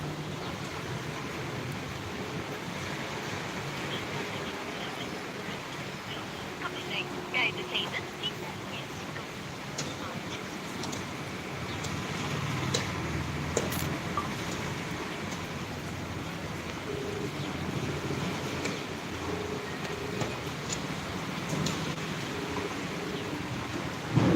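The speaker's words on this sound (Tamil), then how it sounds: "இங்கே நல்லா மழை பெஞ்சிக்கிட்டு இருக்கு" Heavy rain falling in Tirunelveli, a steady broadband wash that holds constant throughout with some wind noise and faint voices mixed in.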